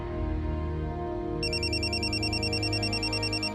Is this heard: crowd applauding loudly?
no